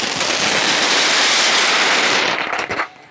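Firecrackers set off beside a mountain road, a dense, rapid crackling barrage of bursts that stays loud and continuous before tapering off into scattered pops near the end.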